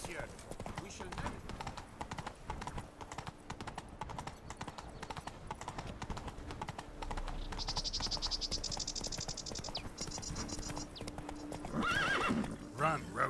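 In The Witcher 3, the horse Roach gallops with steady rapid hoofbeats, and a whinny rises near the end, set against night insects and frogs with game voices.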